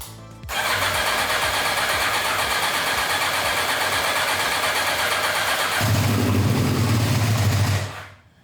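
A 1986 Kawasaki GPZ1000RX motorcycle engine cranks over and catches, settling into a loud, steady running roar close by that deepens and swells near the end before cutting off, with no talk.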